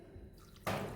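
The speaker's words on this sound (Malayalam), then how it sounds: "വെള്ളം ഒഴിച്ച് കൊടുക്കാം കേട്ടോ." Water is poured into a pressure cooker holding frozen jackfruit pieces and salt, a sudden close splashing rush that starts near the end after quiet kitchen background.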